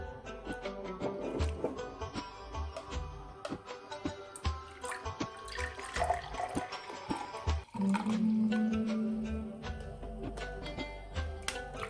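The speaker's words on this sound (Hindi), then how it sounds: "इसके पानी को मैं छान लूंगी।" Liquid from a blended homemade drink being strained, with close trickling, dripping and pouring water sounds plus small clinks of the strainer and container, fairly quiet and without talk.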